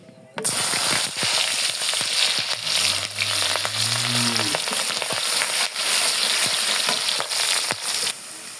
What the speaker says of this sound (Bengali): মাছের তেলের মধ্যে এখন দিয়ে দিব পেঁয়াজ আর তিনটা কাঁচামরিচ কুচি